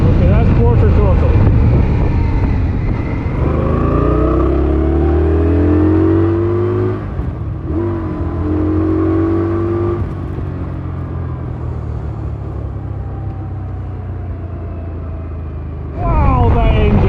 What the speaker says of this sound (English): Okay, that's quarter throttle.